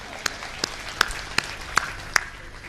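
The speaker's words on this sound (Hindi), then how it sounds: "इस बात के लिए पूरा सदन एक बार जोरदार तालियां बजाए।" Audience in a hall applauding in a sustained wash of clapping, with a few loud, sharp individual claps spaced evenly through it.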